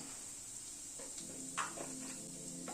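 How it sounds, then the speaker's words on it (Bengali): Panch phoron and hing sizzle gently in hot oil over a lowered gas flame, a quiet, steady hiss with a few soft crackles and spoon scrapes, close by. "গ্যাসের ফ্লেমটাকে কম করে ফোড়নটাকে একটু ক্র্যাক করিয়ে নিচ্ছি"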